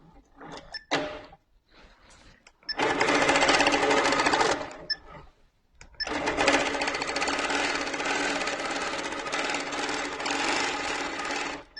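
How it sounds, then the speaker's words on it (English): A sewing machine stitching in two runs, a short burst of rapid mechanical chatter followed by a longer steady stretch, close and clear, with a few light clicks and handling knocks in the quieter gaps. "do a few stitches"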